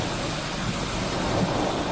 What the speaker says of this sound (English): The wind noise is killing me.